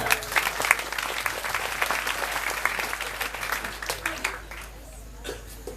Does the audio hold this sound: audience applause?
yes